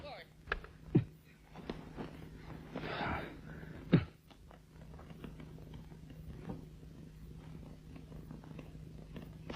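A man imitates a cat's purr, making a low rumbling vocal purr broken by a couple of sharp knocks and shuffles.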